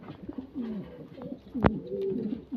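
Show king pigeons coo in low, rolling throaty calls, several overlapping close by, with a brief sharp knock partway through and no speech.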